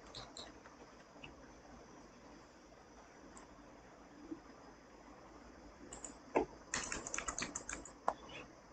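Fingers type on a computer keyboard in bursts of close, crisp key clicks over a low background hiss, sparse at first and growing busier toward the end.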